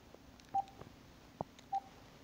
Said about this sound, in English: I'm going to call from my home phone